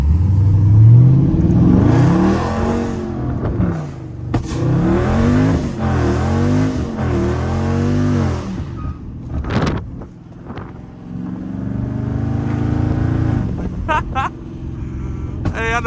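A car with a burble-tuned exhaust drifts through turns, its engine revving hard and loud up close with repeated rises and falls, popping and crackling, while people talk over it.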